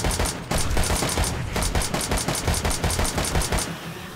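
Rapid shotgun blasts fired at zombies during a horde night in the survival game 7 Days To Die, a dense run of sharp, loud reports in quick succession before cutting off near the end.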